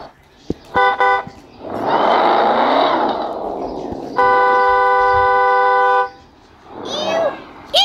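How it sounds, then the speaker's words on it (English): Car horn honking in repeated bursts: two short toots, then a long sustained blast, with loud engine or road noise between and a shout near the end. "Stop honking the horn at him."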